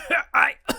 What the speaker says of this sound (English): cover your fucking mouth when you cough